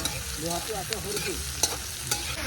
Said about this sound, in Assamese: এইখিনি পিঁয়াজখিনি ভাজি লওঁ অলপ টাইম ভাজোঁ